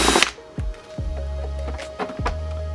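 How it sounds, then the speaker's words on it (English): A step drill bit bores through a part during a bumper quick-release install on a Scion tC2, giving a steady motor whine in short bursts that stop and restart, with no talking. "we're gonna have to go up one more step on the drill bit"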